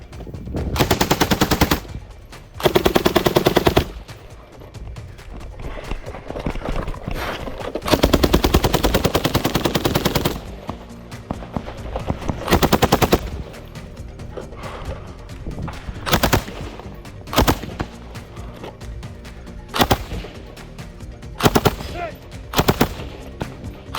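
A machine gun fires in long, loud bursts at a shooting competition stage, with sustained rapid fire broken by pauses and shorter volleys later on, close and dominant, with occasional faint voices in between.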